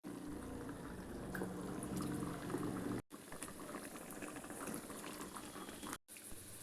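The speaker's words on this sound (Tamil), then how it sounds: "இப்போ நம்ம வடையை எடுத்து போட்டுடலாம்." Cowpea vada drop into hot oil in a kadai, setting off a dense bubbling, fizzing sizzle that runs steadily, broken by two brief cuts to silence.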